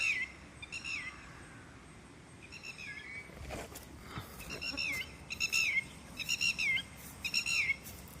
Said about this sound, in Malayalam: ആ പക്ഷിയെ കാക്ക കുത്ത ഓട്ടിക്കുക അതുകൊണ്ട് ആ പക്ഷി ബഹളം ഉണ്ടാക്കുന്നത്